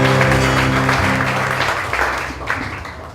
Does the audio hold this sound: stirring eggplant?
no